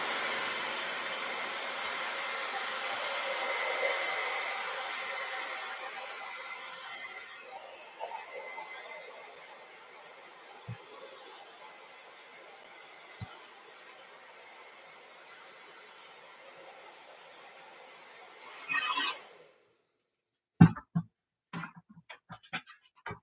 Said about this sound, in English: Let's blow dry that just to get it a little bit drier,